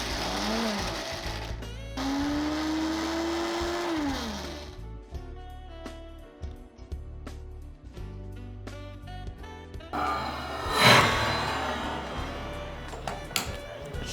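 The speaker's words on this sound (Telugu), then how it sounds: "వేసి మిక్సీ పట్టాలి." Mixer grinder blending bottle gourd, tomato, green chillies and coriander for chutney, a loud whirring motor run at first, then rapid mechanical ticking and rattling pulses, with a brief louder surge near the end.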